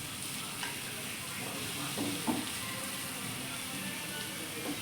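Pineapple fries in a pan with a soft, steady sizzle, fairly quiet, with a few faint stirring scrapes.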